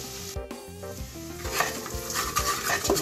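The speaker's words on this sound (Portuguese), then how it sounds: "já está refogado o alho" Garlic sautéing in a pan, steady frying sizzle with repeated scraping and tapping of a spoon stirring against the pan, close and moderately quiet with no voices.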